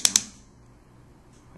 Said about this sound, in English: Slides right in there like that, and then you just hear a little click sound.